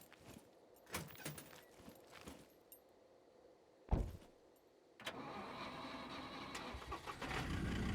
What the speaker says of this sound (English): Probably a tractor.